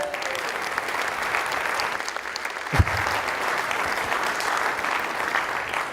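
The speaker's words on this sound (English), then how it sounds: "Give Chad Gates a big round of applause" Sustained applause from a business summit lunch audience, dense and steady throughout with a brief thump near the middle.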